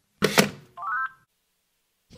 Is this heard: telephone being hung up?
yes